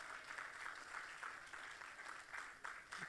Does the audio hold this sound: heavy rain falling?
no